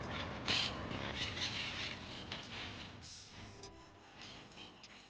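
Wild monk parakeets in Brooklyn give harsh, raspy squawks in quick bursts, fairly close and loud at first, then fade to scattered calls over a low outdoor hum.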